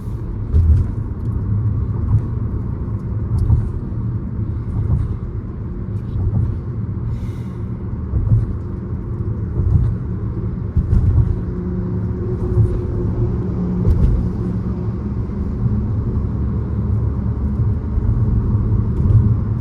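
Steady low road traffic rumble on a busy morning road carrying mostly lorries and other heavy vehicles, heard continuously and fairly loud with no talking.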